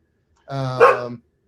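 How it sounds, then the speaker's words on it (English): A dog lets out one loud, drawn-out bark with a slight howl to it, close by and alone against silence, lasting under a second. "So sorry about the dog barking, guys."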